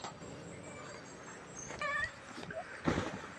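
Small cats meow in short, faint calls at dusk beside a temple in Lampang, Thailand, a few brief mews rising over quiet outdoor background noise.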